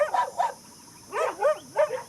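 Guard dogs barking at a vervet monkey, several sharp loud barks in short irregular bursts, close and clear with brief gaps between them.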